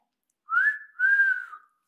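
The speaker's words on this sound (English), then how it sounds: "I do love a good wolf whistle" A two-note wolf whistle: a rising whistle that peaks, then a longer sustained note that slides down and fades, clear and close with no other sound around it.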